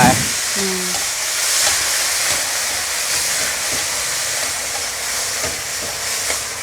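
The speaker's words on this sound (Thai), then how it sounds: "จียวกระเทียมใส่มะเขือเทศลงไป" Garlic and tomatoes frying in a pan, a loud, steady, close sizzling hiss lasting throughout, with a few faint knocks and stirring sounds.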